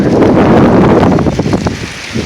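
Roaring wind buffets the microphone with a dense, loud rush during a northern Oklahoma windstorm, easing slightly toward the end.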